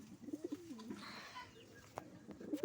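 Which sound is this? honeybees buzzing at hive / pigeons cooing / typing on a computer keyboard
pigeons cooing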